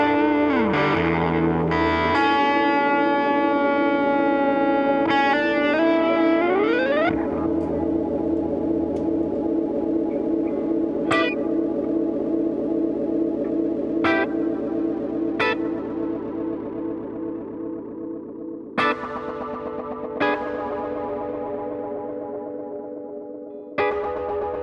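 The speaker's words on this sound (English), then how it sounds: "while I've got that delay on slap back, I can still extend it" Electric guitar through a BOSS GT-1000 pedal with a short slapback delay, a sustained chord with a bending phrase followed by several sharp single strums that ring and echo briefly, played alone without talk.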